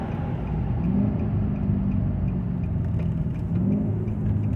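A Nissan or Infiniti car engine rumbles and revs in short bursts during downshift rev matching, the pitch rising briefly twice as gears change down, heard from inside the vehicle.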